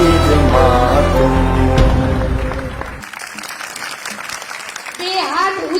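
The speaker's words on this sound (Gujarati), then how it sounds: "તાળીઓના ગડગડાટથી આ પરફોર્મન્સને આપણે વધાવી લઈશું" Audience applause greets a performance of a devotional song about a mother, rising after a stretch of music; the clapping is moderately loud and mixed with some crowd noise.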